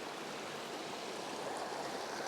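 A creek rushes below a bridge on a hike to Savage Falls, a steady broadband wash of flowing water filling the whole stretch with no talk over it.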